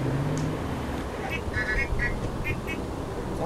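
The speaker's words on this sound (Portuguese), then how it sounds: "Nossa, a buzina." A car horn in the Total Overdose video game gives several short, bright toots in quick succession, set against a steady background rumble of game noise.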